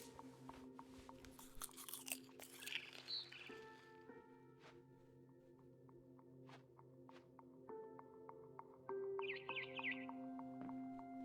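Berries being eaten in the video game What Remains of Edith Finch: a few seconds of close, wet crunching and chewing, then quieter bird chirps over a steady ambient hum.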